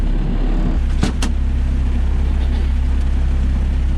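Toyota HJ45 diesel truck driving on a Florida road, a loud steady low engine drone and rumble heard from inside the cab, with a couple of brief high squeaks near the start.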